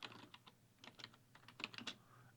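Rapid keystrokes on a computer keyboard, typing in a search for a press conference, come in irregular bursts of sharp clicks, close and moderately loud, with no talking.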